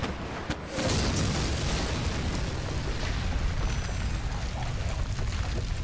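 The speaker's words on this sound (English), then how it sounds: "the explosion erupted only a few inches in front of his face." Animated explosion with a sudden booming burst that swells into a sustained, dense roar and rumble, loud and continuous after the initial blast.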